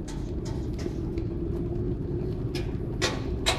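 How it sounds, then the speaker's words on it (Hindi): Steady low engine drone and road rumble from inside a moving 2005 Maruti Suzuki Zen LXi, with a few brief higher hissing bursts near the end. "बाकी अभी आपको साउंड कुछ ऐसी सुनाई दे रही होगी गाड़ी की और मेरी भी"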